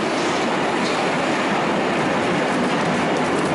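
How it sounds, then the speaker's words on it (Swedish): A train pulls in at a station in Berlin, its broad, steady rumble and rail noise loud and continuous throughout with no clear individual clacks. "nu kommer tåget"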